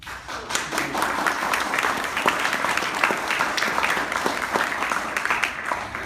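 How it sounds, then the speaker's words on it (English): Audience applause rolls on at a steady, moderately loud level, with dense clapping and a few sharper individual claps standing out, and no talk over it. "I am going to ask for a huge, huge hand of applause for these people right now"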